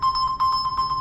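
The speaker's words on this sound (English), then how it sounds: "As you saw, the phone actually rang." A phone rings when located through the OnePlus Band find phone feature, a steady electronic tone pulsing rapidly and evenly, close and fairly loud with no talk over it.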